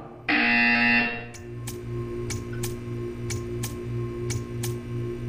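A buzzer in the Portal 2 art test gives one long loud tone, then a run of short evenly spaced ticks follows over a low steady hum.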